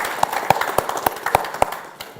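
A small group claps at a conference session, the sharp hand claps coming in a steady, fairly close rhythm before trailing off.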